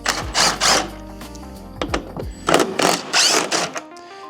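A ratchet with a 10 mm socket loosening headlight bolts on a Ford, in quick bursts of close, loud mechanical clicking separated by brief pauses.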